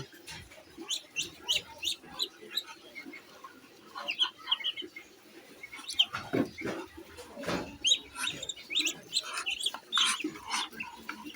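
Ducks clucking and chirping close by in short bursts, with pecking and rustling sounds as they feed; calls come repeatedly throughout.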